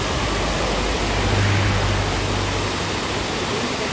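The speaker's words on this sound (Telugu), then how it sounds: "పక్కనే వాటర్ ఫాల్స్. ఇంత పెద్ద వాటర్ ఫాల్స్ ఉంది" A large roadside waterfall beside a valley on the route to Dharmastala roars in a dense, steady, loud rush of falling water, unbroken throughout with no speech.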